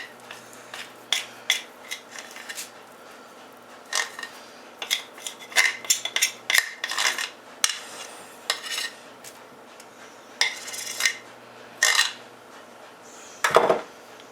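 A pan and metal utensils are handled in a home kitchen while making cheese crackers, giving scattered clinks, scrapes and knocks in short, irregular bursts, quiet and close, with no talking.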